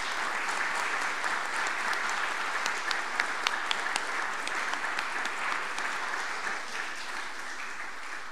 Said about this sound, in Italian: Io suggerisco e propongo un applauso a Marco.